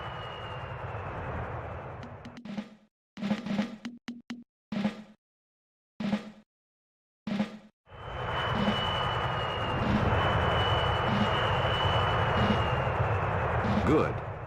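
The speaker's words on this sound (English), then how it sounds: "Now create 10 Lancaster bombers to prepare for the attack." Lancaster bombers in the Rise of Nations strategy game, a steady droning aircraft engine roar that drops out amid short bursty clicks and plops, then returns at full strength.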